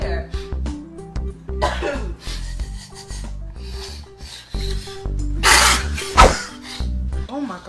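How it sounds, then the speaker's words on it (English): A person gives several short coughs amid a comedy skit, with talking and other voices around the coughs and some rustling and rubbing noises. "It's just a little cough"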